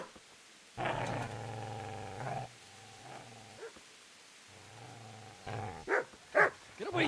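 A dog growls low and sustained in a video game set in medieval Bohemia, rising into snarls and short barking outbursts toward the end, fairly close and loud.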